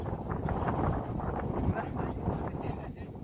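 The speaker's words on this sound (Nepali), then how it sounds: "हावा चलिरहेछ क्या" Wind blowing through a village in Romania, a steady rushing gust buffeting the microphone throughout, with voices faintly mixed in.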